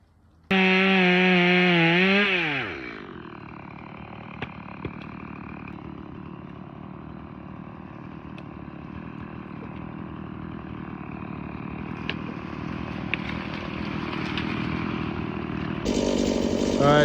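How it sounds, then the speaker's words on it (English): An electric hedge trimmer clearing brush outdoors starts with a loud, high buzzing burst, then settles into a steady, humming motor drone with occasional small clicks and a louder surge at the end. "I'm gonna try to use it to clear out this brush over here"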